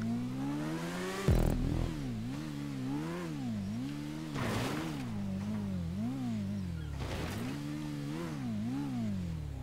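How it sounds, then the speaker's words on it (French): A motorcycle engine in GTA 5 drones continuously, its pitch rising and falling in repeated revving swells, with a few sharp clunks from landings or impacts, steady and fairly close. "Elle est horrible cette moto, mais vraiment."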